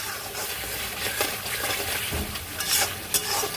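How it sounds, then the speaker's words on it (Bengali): Cottage cheese curry masala fries on high flame as a spoon stirs it, giving a steady close sizzle with scraping and occasional clinks against the pan. "এটা হাই ফ্লেমে কষাতে হবে যতক্ষণ না তেল দেখা যায় সাইডে সাইডে।"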